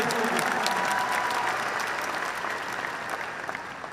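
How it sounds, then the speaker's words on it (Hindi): An audience at a Forever Living India success day event in Delhi breaks into steady, dense applause that carries at full strength and tapers slightly near the end, with no voices over it. "एक बार इस बात के लिए भी तालियां बनती हैं"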